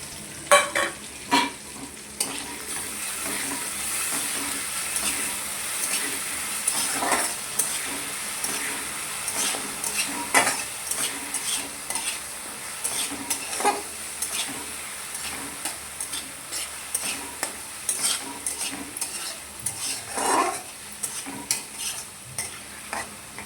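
Ground spice paste with green chillies fries in a pan with roasted tomato, giving a constant sizzle punctuated by frequent scraping and tapping of a spoon as it is stirred.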